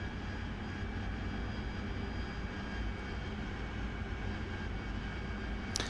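The AV-8B Harrier's jet engine in the DCS World flight simulator gives a steady, continuous roar with a constant whine that holds evenly throughout, kept at a moderate level with no voices.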